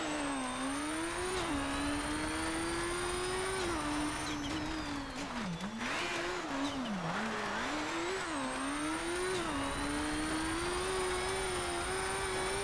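A Toyota Tacoma pickup truck engine drones steadily in the game Colin McRae: DiRT, its pitch rising and falling as it revs and eases off, somewhat buzzy, like a motorbike, with no talking.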